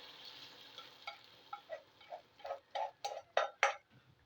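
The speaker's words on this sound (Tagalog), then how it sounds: "haluin lang natin" A spoon scrapes and stirs through mung beans in a home cooking pot, a series of soft, close, rhythmic scraping strokes that grow slightly louder toward the end.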